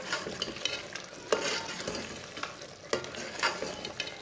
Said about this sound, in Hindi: गरम मसाला डाल लेंगे। इसे भी अच्छी तरह मिक्स कर लेंगे।